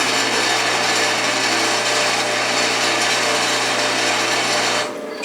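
Delta saw converted for cutting metal, driven slowly by a gear motor, giving a steady loud mechanical whir and rumble that holds evenly, then drops off abruptly near the end.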